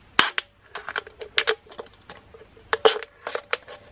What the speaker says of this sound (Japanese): ハサミの角を使って穴を開けていきます。